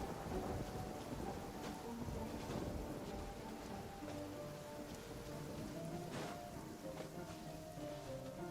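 Steady rain hisses with low thunder rumbling through it in the video game Genshin Impact, a continuous stormy wash with no voices.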